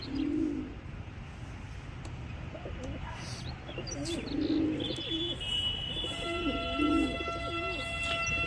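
A new pair of pricey pigeons coos nearby in about three soft, low bursts spread across the stretch, with faint chirps and light background noise between them.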